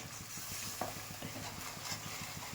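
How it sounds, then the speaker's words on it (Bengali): Spice masala with red chilli powder and salt being stirred in a hot pan for pea ghugni, a soft continuous sizzle under rhythmic scraping strokes of a spoon, fairly quiet and close, no speech. "দিয়ে ভালো করে এটাকে মিক্স করে নিতে হবে মশলাটাকে।"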